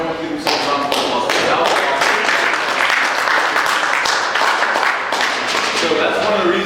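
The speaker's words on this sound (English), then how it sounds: "I want everyone to give themselves a round of applause." A school audience applauds itself, loud close clapping from many hands in an assembly hall, dense and continuous with scattered sharp individual claps and some crowd voices.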